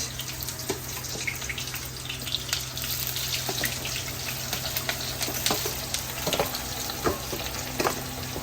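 Sliced onions hit hot oil in a pan for a chicken dish and fry with a continuous crackling sizzle, punctuated by small pops and stirring clicks, close by with no talking.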